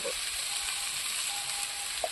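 Kohlrabi and potatoes frying together in a pan make a steady, quiet sizzle with faint occasional scrapes and clicks of stirring, and no one speaks.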